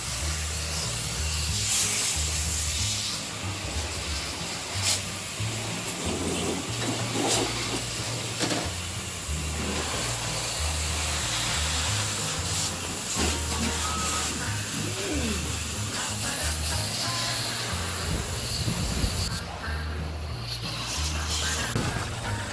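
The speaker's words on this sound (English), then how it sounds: "So here's a pressure washer in the Philippines. Seems to do a pretty good job." A pressure washer sprays water in the Philippines, producing a loud, continuous hissing spray over a steady motor drone that runs the whole time, with slight shifts as the stream moves.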